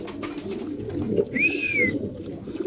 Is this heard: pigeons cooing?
yes